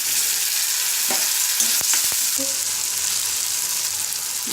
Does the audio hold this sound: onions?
yes